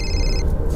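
A mobile phone rings with a steady electronic tone, loud and close over a busy low background hum, cutting off partway through.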